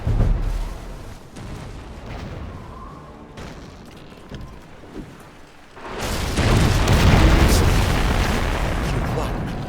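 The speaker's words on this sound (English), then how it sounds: "One of your ships was destroyed." Ship explosion in Anno 1404, a deep booming burst that swells into a loud, sustained roaring rumble after quieter cannon-like thuds, with a voice speaking earlier.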